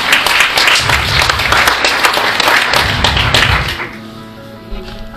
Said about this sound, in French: on applaudit Mélodie très fort.